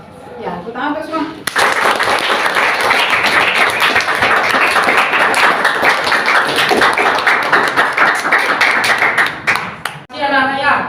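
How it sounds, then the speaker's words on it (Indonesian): Students in a classroom applaud together in a long, steady burst of clapping that stays loud and dense for about eight seconds, with a teacher's voice briefly before and after. "Ya, tepuk tangan untuk semua."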